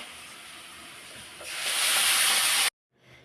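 Spices hitting the pan of a cooking fish curry, a hiss that swells sharply into loud sizzling before cutting off abruptly.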